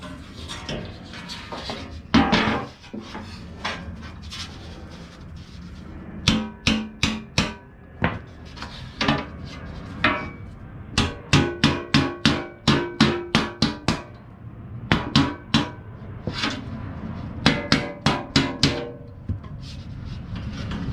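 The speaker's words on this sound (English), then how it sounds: "When in doubt, just get a bigger hammer." Heavy hammer blows ring out against a bent Rallitek steel skid plate from a Subaru Crosstrek as it is straightened, arriving in irregular bursts of sharp, loud metallic strikes with short pauses between volleys.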